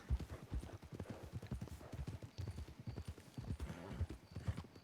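Steady rhythmic clip-clop of horse hooves trotting in the game Tombstone RP, close by and moderately loud, with faint background ambience.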